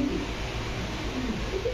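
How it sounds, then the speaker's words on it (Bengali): A pigeon gives a low, rolling coo that runs steadily through the short stretch, close to the listener, over a faint background hum. "কবুতরটা দেখছেন কি সুন্দর"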